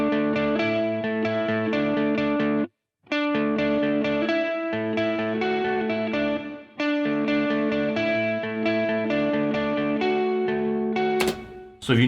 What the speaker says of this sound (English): now you notice the reverb is stereo